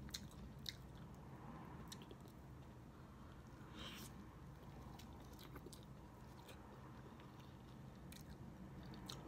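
Chewing and biting into large, sticky fried turkey wings glazed with fish sauce, lemongrass and chili, with soft wet mastication and occasional crunchy bites, close and fairly faint, no talking.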